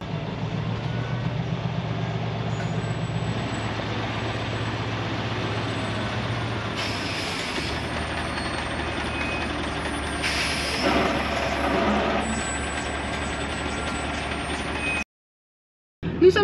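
A truck engine rumbles steadily as it creeps carefully downhill, with hiss and rattle from brakes and body, close and continuous before cutting off abruptly near the end.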